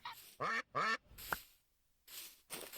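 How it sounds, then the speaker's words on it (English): Ducks in the Minecraft Bedrock game with the BiomeCraft add-on quack loudly in a few separate, repeated calls with brief silences between them. "These are quite loud with the quack quacks."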